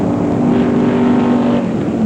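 A 1960s drag race, with a 1923 Model T-bodied rail dragster running a GMC engine. The engine roars as one loud, steady, droning blare that holds at full volume throughout.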